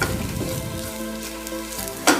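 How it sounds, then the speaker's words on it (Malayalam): Mustard seeds, curry leaves and onion fry in a pan for clam meat roast, a steady close sizzle with a low hum underneath and a sharp burst of crackle near the end. "ആദ്യം തന്നെ കടുക് പൊട്ടിച്ച് കറിവേപ്പില ചേർത്ത് നമുക്ക് അരിഞ്ഞു വെച്ചിരിക്കുന്ന സവാള നല്ലോണം ഒന്ന് ഇളക്കി കൊടുക്കാം"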